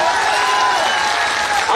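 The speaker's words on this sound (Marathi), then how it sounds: "जोरदार टाळ्या वाजवा" A crowd at a farmers' election rally applauds in a loud, dense, continuous wave of clapping close around, with voices mixed in.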